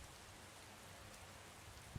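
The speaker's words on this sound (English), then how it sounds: "I'm just listening to the rain." Soft, even patter of rain falling in the video game Skyrim, faint and continuous throughout with a single small tap near the end.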